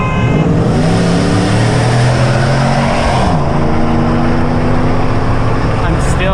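Ram Hemi pickup accelerating with its tires spinning, a loud, close V8 roar whose pitch climbs, dips on a shift and climbs again, with talk over the engine.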